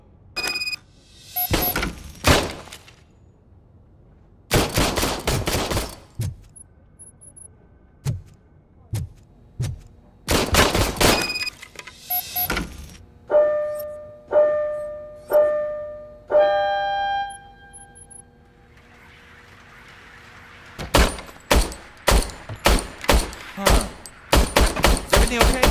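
An old service gun is test-fired in Robocop: Rogue City, with loud repeated bursts of gunfire separated by pauses, clicks and a few electronic beeping tones, close and sharp.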